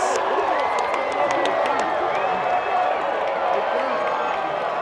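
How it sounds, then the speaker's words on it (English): A homecoming high school football crowd roars and cheers continuously after a touchdown, a broad, sustained wash of noise in an outdoor stadium, with voices talking over it. "the homecoming crowd finally gets something to cheer about"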